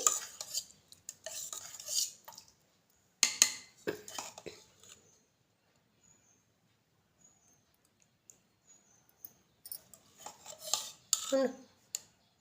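A metal spoon mixes curry inside a lunch box, giving close, bright clinks and scrapes in irregular bursts, with a quiet pause in the middle before the clatter returns.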